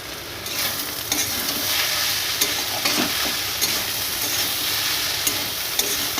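Cabbage ghonto with garam masala stirred in a hot pan, a dense ongoing sizzle with periodic sharp spatula scrapes against the metal.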